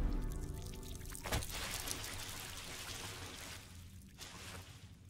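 Radioactive water trickles and pours in a Fallout 76 wasteland, a faint continuous wash with a brief louder splash early on and no talk.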